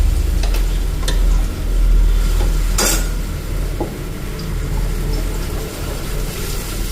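Onion tempering fries in a pan with spices, a loud close sizzle running throughout, with occasional clinks of a utensil against the pan and no talking.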